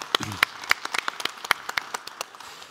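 An audience at a drone technology conference applauds the panelists, with sharp individual claps standing out over a thinner spread of clapping that tapers off, voices faintly present.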